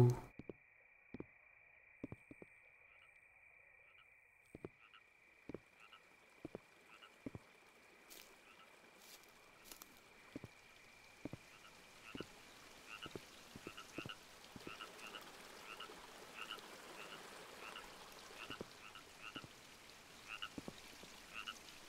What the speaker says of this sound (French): J'adore les petits bruits de grenouilles.